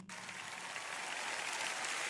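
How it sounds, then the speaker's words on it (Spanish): A church congregation claps loudly and continuously during a worship service, a dense wash of applause filling the room with no voices rising above it. "levanten más fuerte ese aplauso para el Rey"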